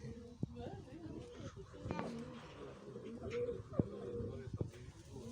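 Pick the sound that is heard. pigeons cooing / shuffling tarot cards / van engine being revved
pigeons cooing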